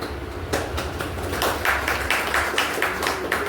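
People clap their hands in a steady run of sharp, closely spaced claps, moderately loud over a low background hum, with no voices.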